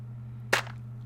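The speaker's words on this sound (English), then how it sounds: "I also used this clap, and together they sound like this." Layered clap samples in a hip-hop trumpet type beat, a single sharp snappy clap hit over a low steady hum, alone and close.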